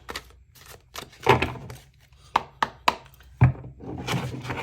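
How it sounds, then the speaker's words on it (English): Tarot cards are shuffled close by in a series of crisp, papery riffling and tapping bursts with short pauses between them, heard alone. "One last shuffle."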